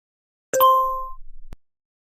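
A short bright chime from a cell phone sounds once in an animated cartoon: a clear ringing ding that fades over about half a second, followed by a faint soft tap.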